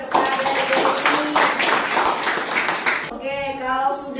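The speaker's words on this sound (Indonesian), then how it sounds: "kasih tepuk tangan kepada Desi" Students in a school classroom clap for a classmate after her presentation, a short burst of close, mixed clapping that fades as a voice carries on talking at the end.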